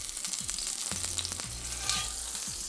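Tuna coated in sesame seeds sizzles and toasts steadily in a hot pan, a close, even frying crackle with a few soft clicks and stirring touches, no talk.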